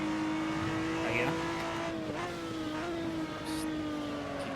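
Maserati MC12 GT race car engine in Assetto Corsa on the Imola circuit, a steady high-pitched engine drone with small pitch shifts through gear changes and brief tire squeal, with people talking over it.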